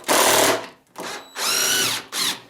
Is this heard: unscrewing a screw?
yes